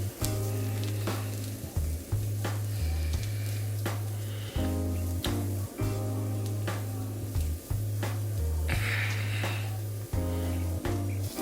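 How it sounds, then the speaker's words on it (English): Chorizo squeezed from its cut-open package into a hot pan for a breakfast omelette, sizzling and frying steadily throughout with soft irregular squelches and stirring noises, no talking. "So I've cut the top off the package of chorizo here, and I'm just going to just squeeze it into our pan."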